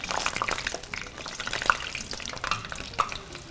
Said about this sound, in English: we're gonna go ahead and finish frying off these fries.